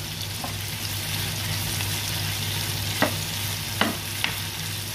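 Chili frying with squid for a curry masala sizzles loudly and steadily, broken by a few sharp clinks of a stirring utensil against the pan.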